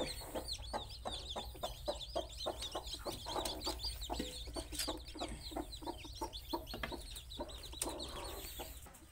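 Hens and six chicks cluck and peep continuously, a busy overlapping chatter of close, steady calls with high chirps mixed in.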